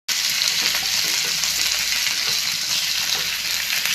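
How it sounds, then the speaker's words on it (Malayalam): Two sliced onions are sautéed in a pan for Kerala-style chicken perattu, a loud, steady close-up sizzle of hot oil that continues evenly from start to finish. "ഈ സവാള ഒന്ന് വഴറ്റിയെടുക്കണം"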